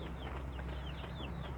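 Kampung chickens cluck softly and repeatedly in the background over a steady low hum, with no voices present.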